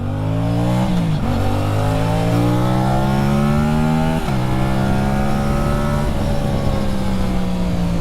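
A 2026 Aprilia RS 457 motorcycle fitted with an Ixil SX1 exhaust accelerating hard on an open road, its loud, continuous engine note climbing through the revs with a couple of brief dips at gear shifts.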